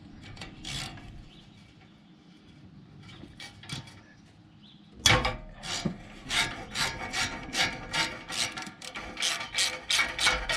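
A ratchet wrench with a long extension, wobble and shallow socket works on a Case 602B roller during a muffler install: faint scattered clicks at first, then a burst of close, rhythmic ratcheting strokes that repeats steadily to the end.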